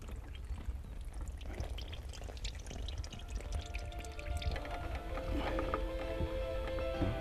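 Steady splashing water pouring out of a fish weighing bag and draining, continuous and close, with a trickling rush that grows slightly fuller toward the end.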